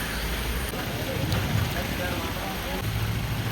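Heavy rain pours in a continuous dense hiss, loud and even throughout, with a faint low rumble beneath.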